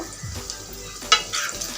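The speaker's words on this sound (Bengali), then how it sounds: "হাতের সাহায্যে দিয়ে দিব তেলের মধ্যে" Banana pitha, a soft fried cake made with overripe bananas, sizzles steadily in hot oil over a medium-low flame, with a few sharper crackles and stirring bumps close by.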